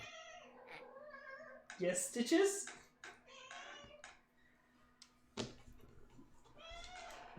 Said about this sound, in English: My whiny kitty is demanding attention.